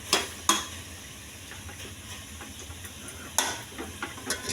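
Masala frying in a pan with chicken sizzles softly and steadily, broken by a few sharp clacks of a spoon against the pan, quiet and close with no talk.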